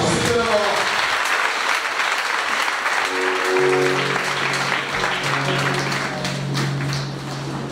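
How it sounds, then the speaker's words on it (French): A church congregation at a Togo revival mission applauds and cheers loudly for the Lord, with sustained dense clapping throughout and voices and a held musical tone rising underneath. "acclamer très fort le Seigneur"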